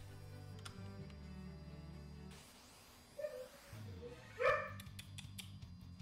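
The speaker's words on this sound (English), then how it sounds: "It's just my dog wanting attention." A pet dog barks a couple of times for attention, short sharp yelps rising over steady background game music, the louder bark landing near the end.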